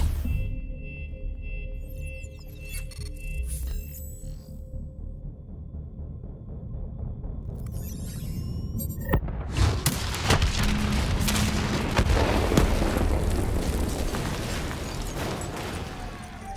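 Explosion detonated in the Call of Duty Black Ops 3 video game, a long loud roaring blast that follows a quieter electronic sonar-like stretch, then rumbles and crackles densely to the end.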